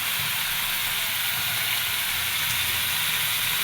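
Cut potatoes go into spices frying in a pan for a fig, potato and tilapia curry, giving a steady, close, even sizzle and hiss of hot oil with no pause and no voices.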